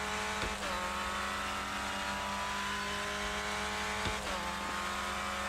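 A Clio Cup race car engine in the iRacing video game drones steadily at high revs, with a couple of brief shifts in pitch as gears change, heard continuously from the cockpit with no talking.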